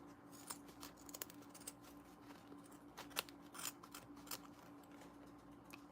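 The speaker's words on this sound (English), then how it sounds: "We're going to clip off the rest of the zipper." Scissors snip through the end of a zipper during a sewing project, a series of faint, sharp clicks and crunchy cuts at an irregular pace, close up and quiet over a low hum.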